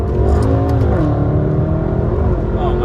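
A BMW F10 M5 with a Stage 2 tune running an E85 blend accelerates hard in second gear, its loud, close engine drone rising steadily with strong harmonic growl throughout.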